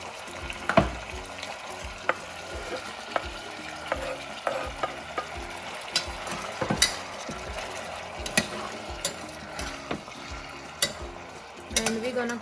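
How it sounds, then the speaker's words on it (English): Chopped vegetables fry in a pot for spicy vegetable khichdi, a steady close sizzle broken by frequent scraping and clanking as a spoon stirs them against the metal sides. "we're gonna add our chopped veggies"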